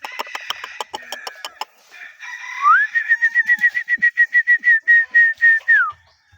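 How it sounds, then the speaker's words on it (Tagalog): A yellow-feathered red junglefowl rooster named Sunny gives a loud, close whistling call, rising into a long series of rapid pulsed notes that ends in a falling tail, after a few sharp clucks. "Napakagandang labuyo niyan mga kasabay."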